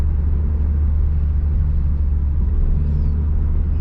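A manual car rolls along a busy road with the throttle released while downshifting, giving a steady, loud low engine and road rumble with no distinct revs, heard close from inside the cabin.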